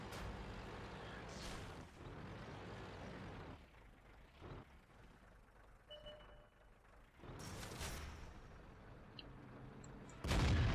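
Heavy cannon fire from an STA-1 tank in a tank video game, booming blasts and rumbling engine noise with a loud, close shot bursting at the end and other reports spread through the battle.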